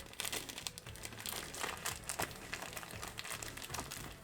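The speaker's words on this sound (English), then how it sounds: "we're going to put in our tissues to make sure that they fit" Tissues are crinkled and pushed into a small sewn fabric travel tissue holder, a close, soft run of rustling and crumpling with no talk.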